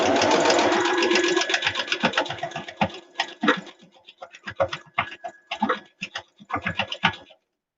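A sewing machine stitches the sides of a homemade fabric face mask with elastic ear loops, running in a steady whirring burst that then breaks into short, uneven start-stop runs close by.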